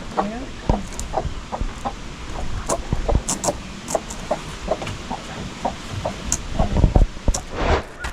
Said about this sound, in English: So we're over here by the broody hen.